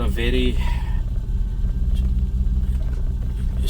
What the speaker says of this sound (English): The 292 has got a very rough idle